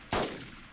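A single sharp gunshot fired in a video game, one loud abrupt crack followed by a short decaying tail, heard alone without talk.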